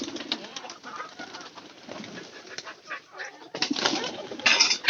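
Hali pigeons cooing in a low, repeated murmur, with faint rustling and a voice speaking intermittently nearby.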